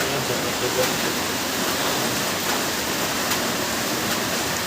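Steady rain falls as an even, loud hiss of broadband wash that fills the whole clip with no pauses.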